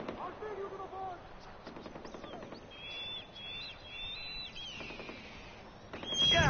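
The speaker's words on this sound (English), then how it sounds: "Oh man, what the hell's shooting?" Machine gun fire in Far Cry 4 crackles in rapid bursts of quick rhythmic shots, fairly close, with a pause between volleys and other game sounds, including chirp-like tones, mixed in.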